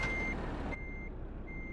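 Truck reversing beeps in the Euro Truck Simulator 2 game: a steady high-pitched tone sounding in a few clear pulses over a constant low engine rumble, with no talk.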